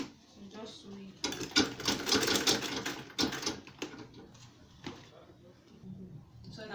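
A sewing machine stitches an insulated lunch bag in one fast two-second run, loud and close, with a shorter burst later on and a voice talking before and after.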